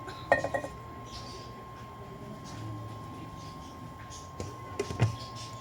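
A metal lid clinks onto a pot of tilapia paksiw, with a few short, light clatters near the start and again near the end over a faint, steady kitchen hum.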